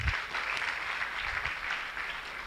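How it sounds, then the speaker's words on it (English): An audience at an induction ceremony applauds in a steady, moderately distant wash of clapping that holds evenly throughout without rising or falling. "A round of applause for them, please."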